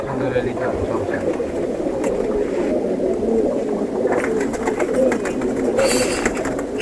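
Cooing of several quality-breed pigeons at a home loft, a steady murmuring drone of overlapping coos with people talking throughout.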